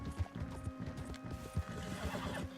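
Horse hooves clip-clopping in a galloping rhythm in Red Dead Redemption 2, with a whinny and faint mechanical rattles, fairly quiet and close.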